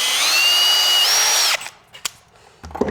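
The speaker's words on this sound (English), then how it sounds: "Drill that out right away." A power drill whines steadily for about a second and a half while drilling out a bolt, its pitch stepping up midway, then stops and leaves a few faint knocks and clatters.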